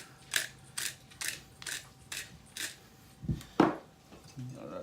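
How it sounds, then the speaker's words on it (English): Small hand pepper grinder cranking black pepper over a little mixture in a kitchen, a series of about eight short, crisp grinding bursts in steady rhythm, close and clear with no talk. "And it's a little grinder here. I'm just gonna grind some pepper into that little mixture."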